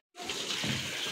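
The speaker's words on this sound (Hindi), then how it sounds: "देखें पानी देंगे इसमें" Water poured out for a goat, a sudden close splash that starts abruptly and continues as a steady gushing pour for about a second.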